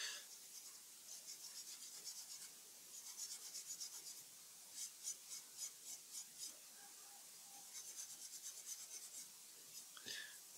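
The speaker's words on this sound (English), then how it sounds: "I'm now sanding through the paint here, and yeah, you see the primer again underneath." Hand sanding through paint on a 1930s R.R. Radio Type 568 tuning condenser, with soft, quiet, close rubbing strokes in short rhythmic bursts and a brief knock near the end.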